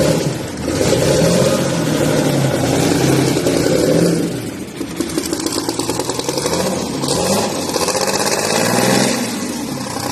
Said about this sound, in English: we found an engine, and we're trying to get it running right now